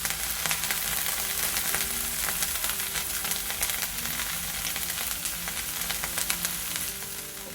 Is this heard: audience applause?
no